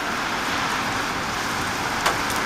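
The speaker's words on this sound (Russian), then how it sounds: "Все затянуло моментально. И ливень." A sudden heavy downpour hits Moscow, a dense, steady roar of rain on surfaces, loud and continuous, with a brief sharper knock near the end and no voices.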